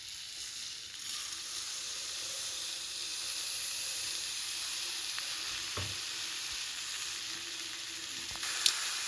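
Olive jelly with sugar gently sizzles and bubbles in a pan over a low gas flame as it is stirred, giving a steady soft hiss with a few faint scrapes.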